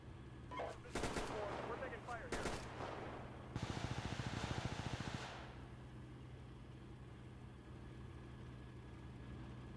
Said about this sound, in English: Somebody else is firing on him